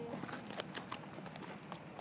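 Horses walk on a trek in Patagonia before a river crossing, their hooves clip-clopping in a faint, irregular patter at a distance over background noise.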